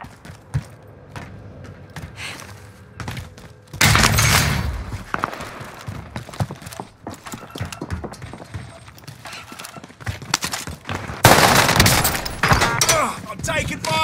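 Gunfire in Call of Duty cracks in scattered single shots and dense loud bursts, some close and some farther off, with radio-style voices talking over the action.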